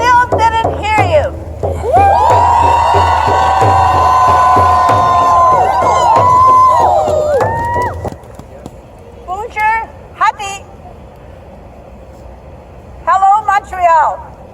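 Crowd noise at a Wet'suwet'en solidarity rally in Montreal, a loud swell of cheering and shouting with a droning horn-like tone that cuts off sharply, followed by scattered voices and a few distant whoops.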